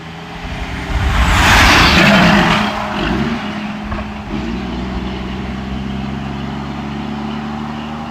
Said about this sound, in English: The traffic here isn't super busy, but it's enough.